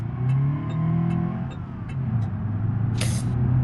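A Covet car in BeamNG.drive pulls away during a simulated driving lesson, its steady mid-pitched engine hum rising slightly, with a short hissing burst near the end.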